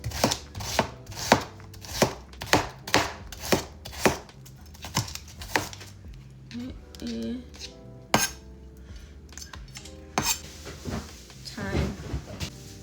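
Onion being chopped on a board for Jamaican pumpkin rice, a run of sharp, evenly spaced knife strikes up close, later slowing into scattered taps and clinks under soft background sounds.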